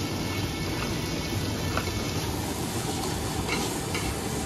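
Steady, close sizzle and scraping from a pan as ginger and garlic paste cook and get stirred, a continuous dense hiss with no pauses.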